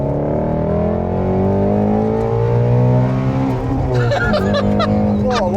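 Ford Shelby GT350R V8 on snow tires in winter revving hard, a loud, deep, sustained roar that climbs and swells close by, with people exclaiming toward the end.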